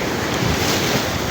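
Ocean waves at sea, heard as a brief, loud, steady wash of surf with heavy wind buffeting the microphone and no voices.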